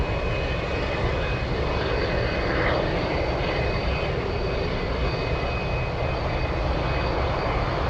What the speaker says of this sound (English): And currently racing down the runway